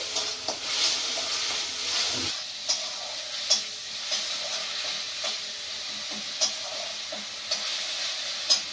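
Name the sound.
onions frying in a pan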